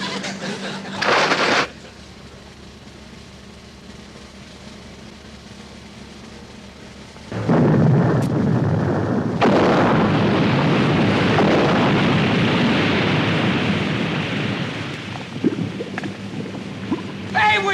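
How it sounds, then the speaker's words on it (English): Depth charges exploding underwater from a navy vessel, heard as a sharp burst followed after a pause by a deep rumbling blast. The roar swells and churns for several seconds before slowly easing off. "Fire depth charges!"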